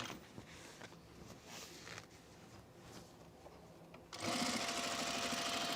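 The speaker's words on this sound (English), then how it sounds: "When you're sewing curves like that, don't stop." Sewing machine stitching steadily along a curved seam on the facing edge of a blazer, a close, continuous whirring hum that runs unbroken and grows noticeably louder and faster toward the end, with no talk.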